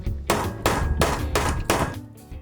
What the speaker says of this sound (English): we'll use the hammer